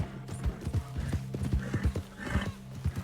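A horse named Homicide trots in Red Dead RP, a rapid rhythmic clip-clop of hooves at close range, with a short whinny early on.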